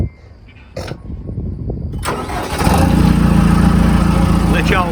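A tractor engine starts up and keeps running loud and close, a steady rumbling drone while a man is being lowered down from working on a chimney of an old brick house.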